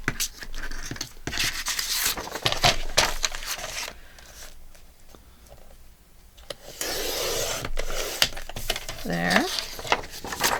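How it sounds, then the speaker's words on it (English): Scissors trim a paper page insert at its top and bottom edges, with close crisp snips and paper rustling in uneven bursts while a person talks intermittently. "I'm going to trim it at the top and bottom."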